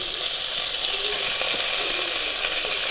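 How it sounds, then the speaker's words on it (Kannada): Tyson chicken pieces dropped into hot tempering oil, giving a dense, continuous hiss of sizzling that stays loud and even from start to finish. "ಚಿಕನ್ ಪೀಸ್ ನಾವು ತಗೊಂಡಿದ್ದೇವೋ ಟೈಸನ್ ಚಿಕನ್, ಅದನ್ನು ನಾವಿಲ್ಲಿ ಒಗ್ಗರಣೆಗೆ ಹಾಕುವ."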